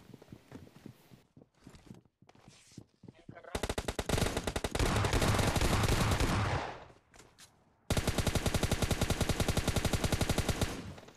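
Fast automatic gunfire from an S12K shotgun and a Groza rifle in PUBG Mobile Lite rattles in dense, loud sustained bursts, after scattered single shots and a short pause at the start.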